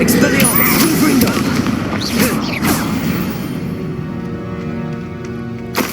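A Confringo blasting spell bursts in Hogwarts Legacy amid combat, a loud rumbling explosion with crackling debris and whooshes that fades into a lingering low roar, with a voice shouting over the start.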